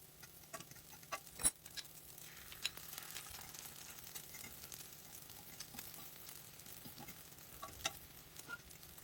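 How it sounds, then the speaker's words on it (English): Small egg drops fry in hot beef tallow, giving a soft, steady sizzle with scattered light pops and crackles throughout, close up and with no talking. "these are tiny little omelets that are frying in the tallow"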